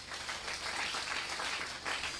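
A church congregation applauding for the Lord, a steady wash of many hands clapping together at moderate distance, sustained throughout with a slight swell near the end.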